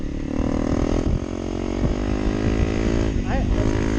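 A 2023 Honda CRF300L Rally (non-ABS) motorcycle accelerates on the road, its single-cylinder engine droning steadily and climbing in pitch under heavy wind rush.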